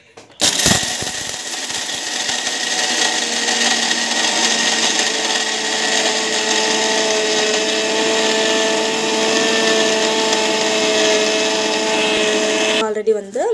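A mixer grinder whirs loudly as it grinds a batch of ingredients, with a steady high motor whine that starts abruptly, holds for about twelve seconds and then cuts off.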